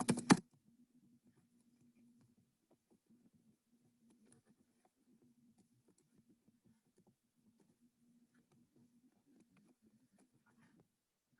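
Keys are tapped in faint, irregular bursts as a name and email are entered on a computer keyboard, with a low steady hum beneath and a sharp click at the very start.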